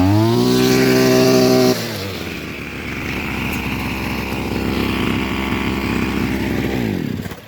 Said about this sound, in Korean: 그 상태에서 이 시동줄을 당겨버린다.